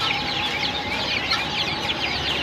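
Many chickens clucking and squawking together at close range in a poultry market, a busy continuous chatter of poultry crowded in one place.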